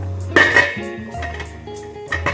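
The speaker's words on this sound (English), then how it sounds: "So now I put on the lid." A metal lid set down onto a cooking pot of popcorn, giving a couple of close, bright clinks followed by softer rattling and scraping as it settles.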